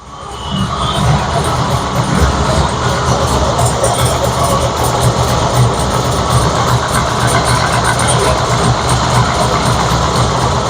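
A 1995 Z28's engine, running for the first time in 12 years, idles steadily at about 1,000 rpm and fairly loud, a constant low rumble with a faint rattling texture, holding the same level throughout with no talking.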